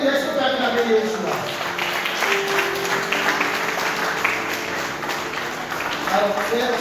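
A church congregation applauding and cheering for Yeshua at a French-language revival gathering, a sustained wash of clapping mixed with loud overlapping voices and shouts, continuing without a break.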